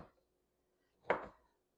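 A single faint knife chop through stale sourdough bread being cubed on a board, one short thud following a softer tap, quiet and close.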